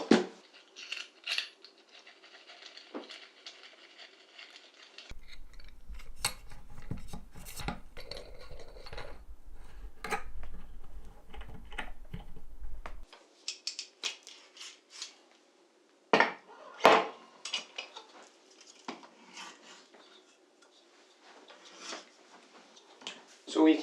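Rode PSA1 studio boom arm being fitted and clamped to a desk, with scattered metallic clicks, clanks and scrapes, some sharp and close, between stretches of quiet handling noise.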